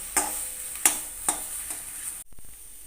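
Pointed gourd bharta is stirred in mustard oil in a wok, a soft sizzle under three or four sharp spatula scrapes and taps, then a brief clunk as it settles.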